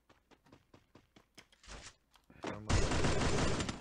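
Rapid bursts of video game gunfire, a string of sharp single shots followed by a loud sustained volley.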